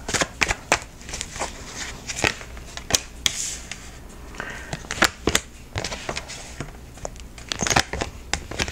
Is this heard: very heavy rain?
no